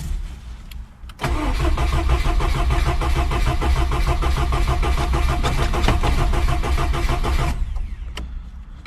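A Ford Capri with an uprated starter motor cranks hard and continuously for several seconds, loud and close, as it struggles to fire, then cuts off into quiet with a few faint clicks.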